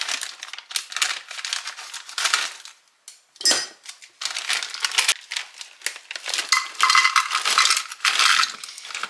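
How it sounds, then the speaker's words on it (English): Frozen mixed vegetables of corn, peas, carrots and green beans poured into a pan, a rattling, crinkly cascade in several bursts with a short pause midway, close and fairly loud. "we're going to add in some of our frozen mixed veggies"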